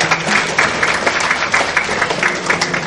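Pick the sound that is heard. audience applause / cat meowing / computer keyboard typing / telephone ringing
audience applause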